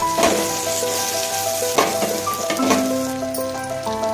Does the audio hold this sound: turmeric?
yes